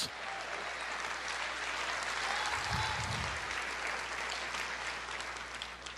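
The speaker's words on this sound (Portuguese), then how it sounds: "Você pode aplaudir o Senhor e dizer glória a Deus." A church congregation applauds during a sermon, steady dense clapping filling the room for several seconds at a fairly even level, with a brief low rumble partway through and no speech over it.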